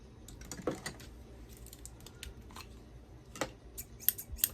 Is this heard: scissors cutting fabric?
yes